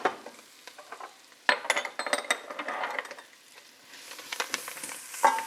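Vegetables sauté in a pan for khichri, with light sizzling punctuated by scraping and clattering stirs of a utensil, close and intermittent, fading quieter before a final clatter.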